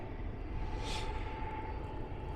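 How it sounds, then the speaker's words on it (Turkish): An airplane passes overhead as a steady broad engine rumble at moderate distance, continuous throughout with a brief brighter whoosh near the middle. "galiba uçak geçiyor. Onun gürültüsü geçsin de burası nerede uçak?"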